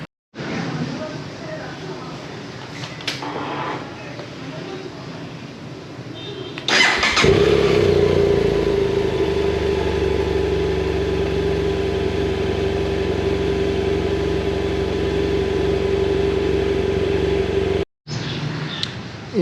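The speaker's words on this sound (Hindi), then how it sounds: "इंजन वार्म अप हो चुका है।" A 2011 BMW F650GS motorcycle engine starts and settles into a steady, loud idle while warming up, running continuously before cutting off near the end after some quieter handling noise.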